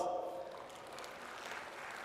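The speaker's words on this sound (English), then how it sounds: "A round of applause." A round of applause from the audience at the inaugural session of a healthcare conference in India, a brief, fairly soft patter of clapping that fades after a couple of seconds.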